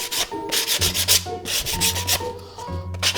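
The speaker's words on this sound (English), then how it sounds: "you can also always take your sanding paper and use the sanding block here." Sandpaper on a sanding block rubs across wood for a simple treasure chest in quick, rhythmic back-and-forth strokes, close and fairly loud with no talking.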